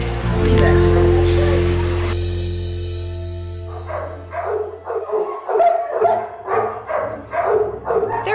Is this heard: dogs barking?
yes